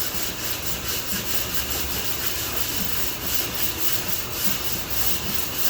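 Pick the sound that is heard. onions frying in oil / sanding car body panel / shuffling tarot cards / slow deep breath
sanding car body panel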